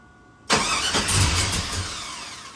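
A Ford Sierra engine, just after a cam swap, bursts into life with a loud crank-and-catch, then runs rough and loud with throttle blips close by.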